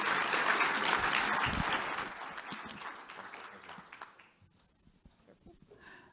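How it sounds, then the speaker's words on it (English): An audience at a talk breaks into applause, a dense burst of many hands that is loudest at the start and tapers away over several seconds to near silence. "please give a round of applause"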